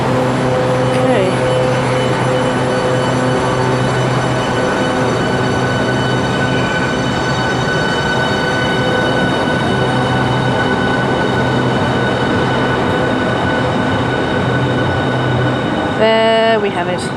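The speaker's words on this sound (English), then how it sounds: "Bye-bye Southeastern high-speed train, bye-bye HS1 train" A Southeastern HS1 high-speed train runs past at Stratford International with a loud, sustained rumble and steady tonal whine, ending in a brief high squeal near the finish.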